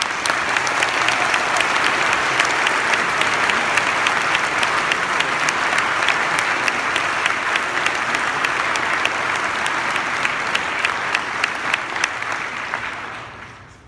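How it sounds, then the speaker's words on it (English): A graduation audience applauds steadily for about fourteen seconds after student names are read, dense sustained clapping from a large crowd with a few sharp nearer claps, tapering off at the end. "Let's give a round of applause."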